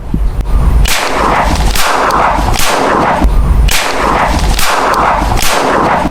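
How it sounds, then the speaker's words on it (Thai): A silver Retay Eagle X Desert Eagle blank pistol fires about six loud, sharp reports in steady succession, each blast ringing out with a booming tail. "ลองเหนียวไกลยิงจริง ๆดูนะครับ"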